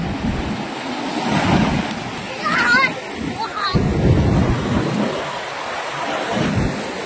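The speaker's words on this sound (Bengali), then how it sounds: "সমুদ্রের যে সাউন্ডটা সেটা কেটে দিলে একদমই ভালো লাগবে না" Sea waves break and roll onto RK Beach in Visakhapatnam, a loud, continuous surf roar with surging swells and wind buffeting the microphone.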